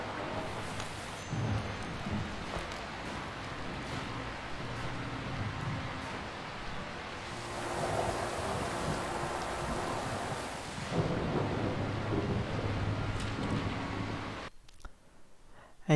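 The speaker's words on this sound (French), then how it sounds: "Oh là, il y a de l'orage dans l'air." Stormy rain and rumbling wind from the video game Inmost, a steady broadband wash that swells louder midway and holds until it cuts out sharply near the end, with no voices.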